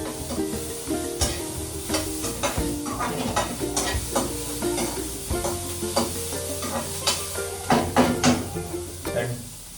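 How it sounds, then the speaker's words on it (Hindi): Onions frying in a pan while being stirred, with a steady sizzle and repeated scraping and clanking strokes of the utensil, close and continuous for about ten seconds. "प्याज को बहुत अच्छे से भून लेंगे."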